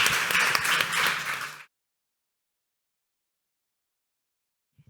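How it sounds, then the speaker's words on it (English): Conference audience applause for a finance panel, a dense burst of clapping that lasts under two seconds and then cuts off into silence. "Please, a big applause for the panel."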